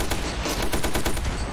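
Rapid automatic gunfire from the military sandbox shooter Ravenfield rattles on without a break, loud and close, with dense overlapping shots throughout.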